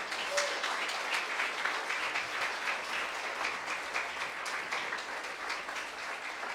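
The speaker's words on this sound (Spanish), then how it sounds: "le puedes dar un aplauso al Señor por eso" Congregation applauding during a church sermon, a steady, moderately loud wash of clapping that continues without pause, with no voices standing out.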